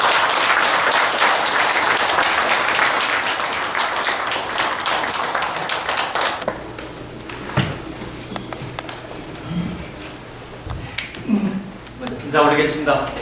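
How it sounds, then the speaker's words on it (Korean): Loud audience applause at a Buddhist forum greets vice-chairman Kim Jae-cheol, dense clapping for about six seconds, then fading into scattered claps, shuffling and a few voices. "여러분들 큰 박수로 김재철 부의장님 모시겠습니다"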